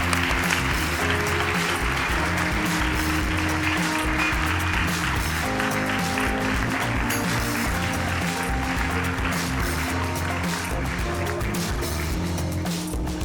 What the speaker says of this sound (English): They deserve a round of applause just the same